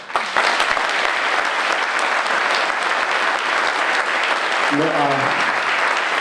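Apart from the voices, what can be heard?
audience applause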